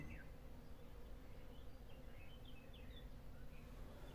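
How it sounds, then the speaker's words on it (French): Honeybees work the hives during an acacia honey flow, making a faint, steady buzzing hum with a few light chirps over it. "On entend que ça bourrine, c'est-à-dire qu'ils sont en train de mieller pour le miel d'acacia."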